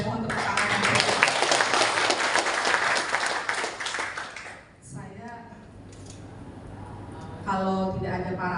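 Applause from an audience at a West Java provincial event, loud dense clapping for about four and a half seconds that dies away, followed by quieter room noise and a voice speaking near the end.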